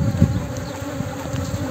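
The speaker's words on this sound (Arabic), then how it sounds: "انتباه النحل راه شرس" Honeybees buzz densely and close around an opened beehive during a queen excluder check, a continuous loud droning swarm sound with no pauses.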